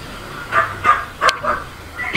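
A dog gives a short series of about five sharp barks and yips close by, outside a house in a subdivision during a delivery stop.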